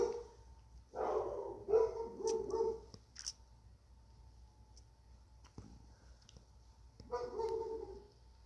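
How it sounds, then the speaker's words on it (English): Dogs bark in short bursts, a few yaps near the start and another burst near the end, faint and somewhat distant over a quiet background. "Oh, now barking."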